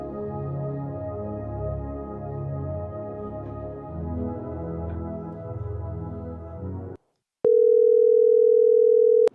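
A steady telephone dial tone on a phone line comes in loud and alone for about two seconds near the end, after a stretch of ambient sound and a brief silence.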